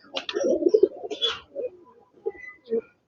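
Kaldom pigeons, a female and a male, give low throaty coos in short bursts close by, with several pulsing notes followed by quieter, separate coos.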